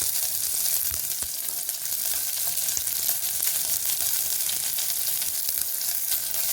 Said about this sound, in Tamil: போட்டு நல்லா வதக்கி விடுங்க